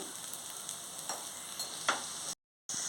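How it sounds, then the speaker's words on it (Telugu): Chopped onions with salt frying in a pan, a steady bright sizzle with occasional louder pops and crackles, close and continuous apart from a brief silent gap near the end. "అవి చిన్న చిన్న ముక్కలుగా వేయించుకోవాలి ఆనియన్స్ ఎగిపోయి తగినంత సాల్ట్ వేసుకోవాలి"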